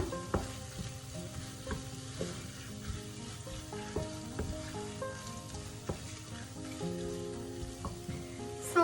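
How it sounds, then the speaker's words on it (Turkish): Tomato paste frying in a pot for a green lentil stew, giving a steady crackling sizzle with scattered pops and light clinks of stirring throughout, close and fairly quiet. "Şöyle salçayı da birazcık kavuruyorum."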